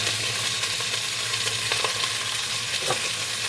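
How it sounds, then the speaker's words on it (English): Chuck steak browns in a hot pan, giving a loud, steady sizzle and frying crackle that holds throughout with a few sharper pops and stirring scrapes, no voices. "We're just browning them on each side."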